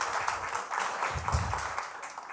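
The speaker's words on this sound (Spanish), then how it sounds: "un aplauso por favor" Audience applause during a church service, a steady wash of clapping for about two seconds with a brief low rumble midway, fairly faint and slightly distant.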